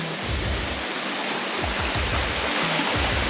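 River water flowing steadily in Trinidad, a dense, continuous close-up rush with low splashing surges and no voices.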